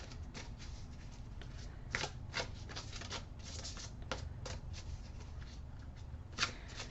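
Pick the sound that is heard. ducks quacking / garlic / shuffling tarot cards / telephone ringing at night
shuffling tarot cards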